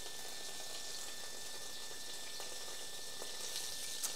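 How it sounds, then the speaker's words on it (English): Vegetables sautéing in a home kitchen pan give a steady, moderately quiet sizzle and crackle that continues throughout with no talking. "I'm going to saute the vegetables now, right?"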